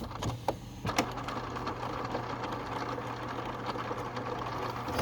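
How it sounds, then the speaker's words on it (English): Rollers of a Canon Pixma TS-series inkjet printer spinning, giving a steady mechanical whir and hum with a few soft clicks at the start, close and fairly quiet. "It just gives you the opportunity to clean these rollers while it spins"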